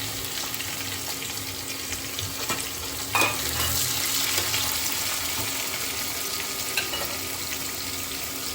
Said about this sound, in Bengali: এখন আমি এর ভেতরে পেঁয়াজ ঢেলে দিলাম।